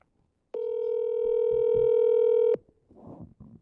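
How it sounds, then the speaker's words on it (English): A steady telephone dial tone sounds for about two seconds while a call is being placed, loud and clear, then cuts off abruptly and is followed by a few faint, muffled sounds. "Let's see if I can get her on the phone."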